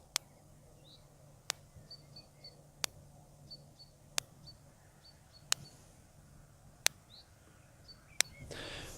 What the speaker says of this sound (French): je vais tout simplement prendre le fil, aller le poser sur l'autre et faire toucher à terre. Et je suppose que vous allez entendre le clic.